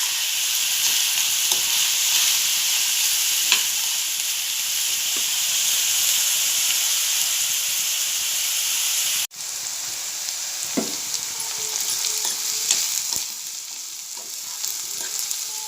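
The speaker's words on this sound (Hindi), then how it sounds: "तो थोड़ा नरम होने तक हम प्याज तेल में तलेंगे।" Onions frying in oil in a pan, a steady, loud sizzle and crackle that runs throughout, with a brief break partway and occasional stirring scrapes.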